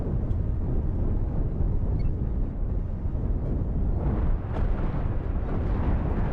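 Cannons fire in the space-combat video game Cosmoteer, a dense, continuous rumbling barrage of low booms with a few sharper bursts, steady and loud throughout.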